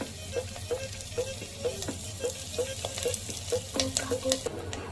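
Garlic, chili and onion fry in a pan with cumin, a steady sizzle over a low hum while a utensil scrapes and knocks against the pan in a regular stirring rhythm.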